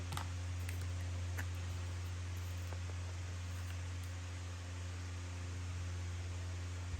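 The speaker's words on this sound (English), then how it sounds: "Can you hear the humming of my fan? It's very loud." A loud electric fan hums steadily and alone throughout, a constant low drone under faint broadband airflow noise, with occasional soft clicks from paper crafting nearby.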